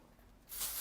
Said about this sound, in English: Just going to use our triple dry here just to spray it down to help cool it off.